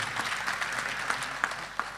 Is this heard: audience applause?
yes